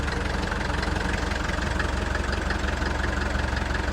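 A 1962 Lancing diesel forklift engine runs by itself with no one on the pedal, a steady, loud, close-up mechanical drone with a fast, even knocking pulse.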